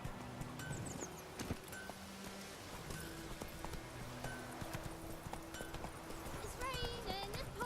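Hooves of Geralt's horse Roach in The Witcher 3: Wild Hunt clip-clop closer at a trot, a steady rhythm under ambient game music, with a brief whinny near the end.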